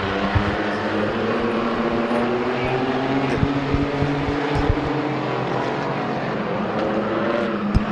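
Race cars roar around the track at Midvale Speedway on a green flag, a loud sustained blend of engines from a field of cars with occasional sharper bursts as they pass.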